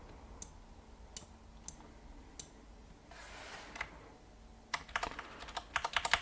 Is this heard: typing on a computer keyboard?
yes